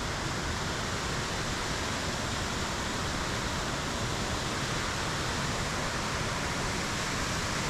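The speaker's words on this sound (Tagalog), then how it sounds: "Daming waterfalls." Waterfalls beside a mountain road on the route to the Banaue rice terraces via Bessang Pass, heard as a steady, dense broadband rush of falling water filling the whole stretch without a break or voices.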